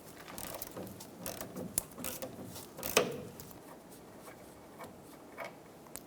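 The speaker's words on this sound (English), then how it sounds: "Using a 10mm socket, remove the pinch bolt for the steering shaft." A ratchet fitted with a 10mm socket works loose the steering shaft pinch bolt on a 2005-2015 Toyota Tacoma, giving a quiet run of fast clicking ratchet ticks and one sharper click, close by, with no talking.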